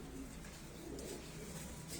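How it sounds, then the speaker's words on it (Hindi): Soft cooing of a pet female pigeon, low and continuous, over a steady hum of background noise with no voices. "बहुत अच्छी प्यारी कबूतरी।"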